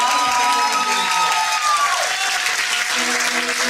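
A cabaret-style show crowd gives sustained applause, thick continuous clapping with some cheering and faint voices mixed in, loud and even throughout with a sustained musical tone running underneath.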